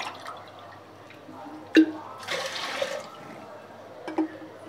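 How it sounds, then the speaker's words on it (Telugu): Water splashes into a pot of rice in a short pour, with a few scattered drips and clinks before and after in a quiet room. "రెండు గ్లాసులు వాటర్ పోసుకుంటున్నాను"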